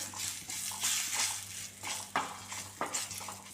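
Curry leaves and popped mustard seeds sizzle in hot oil, a steady crackling fry broken by a few sharp scraping stirs of a spoon against the pan, with a faint background hum.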